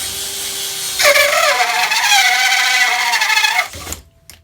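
A DeWalt 20V cordless drill spins up and bores a 2 1/8 inch hole saw through half-inch plywood, a close, loud whine with grinding cut that holds steady for a few seconds, then cuts off.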